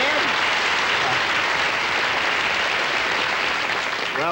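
A studio audience at a Bob Hope television show breaks into dense, sustained applause, loud and close, clapping steadily for several seconds with a faint voice near the end.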